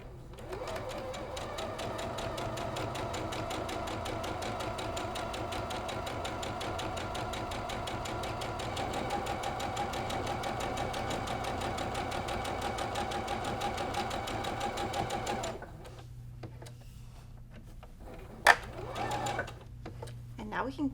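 A sewing machine stitching the seam of a friendship star quilt block, a fast even mechanical whirring chatter held for about fifteen seconds, then stopping, followed by quiet handling noises and brief talking.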